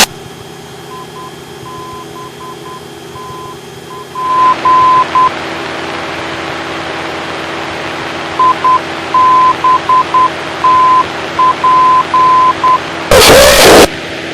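Morse code identifier tones from a navigation beacon, received over the cockpit radio of a small training aircraft flying an IFR approach, sound as repeated short and long steady beeps in two bursts above constant engine drone, with a brief loud crackle near the end.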